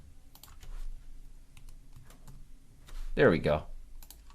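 Someone typing a ticker symbol on a computer keyboard: sparse, light key clicks close by, with a short spoken phrase partway through.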